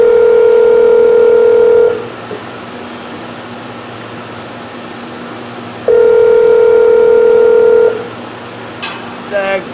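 A telephone dial tone sounds steadily and loud for about two seconds, stops, and comes back for another two seconds over a constant background hum, with a faint clatter at the end.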